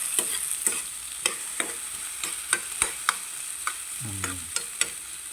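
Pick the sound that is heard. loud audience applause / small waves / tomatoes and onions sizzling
tomatoes and onions sizzling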